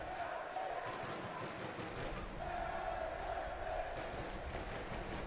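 Galaxy supporters in a stadium crowd at a night soccer match, a steady roaring murmur with sustained chanting swelling twice, distant and continuous.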